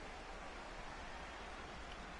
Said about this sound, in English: when the rain comes down like it's coming down now